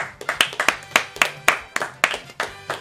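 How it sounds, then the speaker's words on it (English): Hands clapping in a steady run of about a dozen sharp, evenly spaced claps, fairly close and loud, with no talk over them. "Fucking clap."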